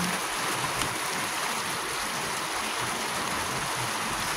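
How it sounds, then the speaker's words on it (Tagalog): Pineapple chicken (pininyahang manok) bubbles at a steady boil in a pot, giving a continuous, even hiss and burble with no speech over it. "Hintay lang po siyang kumulo ng ganyan."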